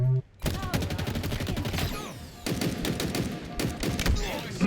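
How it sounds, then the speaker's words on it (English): Rapid automatic gunfire rattles in dense bursts with occasional thuds and brief pauses, loud and close, like a frantic shootout in a Halo game. "Target spotted. In a hail of gunfire."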